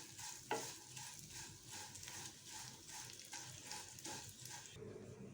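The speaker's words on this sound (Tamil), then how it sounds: "இப்போது அதே பேன்லேயே எடுத்து வச்சுருக்கிற சேமியாவை வறுத்து எடுத்துக்கலாம்" Vermicelli (semiya) roasts in a pan for payasam, stirred in a steady rhythm of soft scraping strokes roughly twice a second over a faint sizzle, quiet and close.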